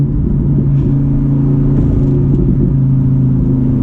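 A Lamborghini Huracan Evo engine drones steadily while the car is driven. The low, loud rumble is heard from inside the cabin, with a slight rise and fall in revs and no talking.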